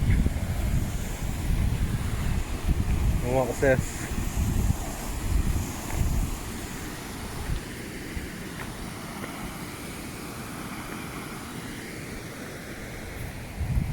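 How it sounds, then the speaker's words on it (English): Wind buffeting the microphone at old paper mill ruins, with a waterfall's steady rushing wash underneath; a brief spoken question near the start. "Might be a bit noisier here, as you've got the waterfall"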